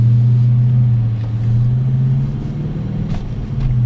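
A Scat Pack muscle car's engine rumbles loud and close with a deep steady idle-like drone that swells slightly as it pulls away, with no talk.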